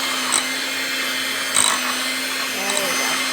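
An electric mixer beats cream cheese and sugar for pumpkin muffins with a steady, loud whirring hum and slight pitch wobbles as the beaters work through the mixture.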